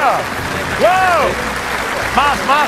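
A church congregation applauds the Lord during a Spanish-language service, with clapping and cheers rising and falling for a few seconds, mixed with excited voices and shouts.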